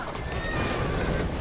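A horse whinnies in the Assassin's Creed Syndicate video game, a loud close neigh carried over rumbling hoofbeats and street noise, with no talk.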